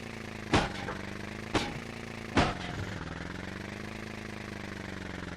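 A steady mid-pitched motorcycle engine in a video game (English Countryside level, Tomb Raider Level Editor) idles continuously, broken by three sharp, loud bursts in the first half, with no voices.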